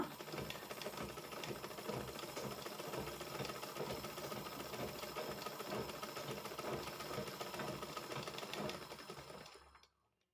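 A sewing machine winds thread onto its bobbin, a steady, fast mechanical whirring and rattling hum that runs unbroken for about ten seconds, then winds down and stops, with no talking.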